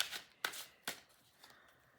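Tarot-style cards being shuffled for a weekly card reading, a few soft, close riffling flicks with short pauses between, quiet and without talk.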